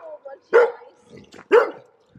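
A dog gives two sharp, close barks about a second apart, with faint background sounds between them.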